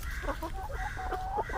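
Chickens clucking close by in a rural yard where a dog is also around, several short overlapping clucks over a low steady background rumble, no talking.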